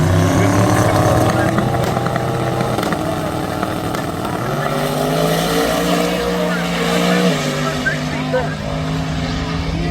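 Twin-turbo LS-swapped 1969 Chevelle drag racing down the strip at Byron Dragway, a loud high-revving engine with rising and stepping tones through gear changes, overlaid by a commentator's voice.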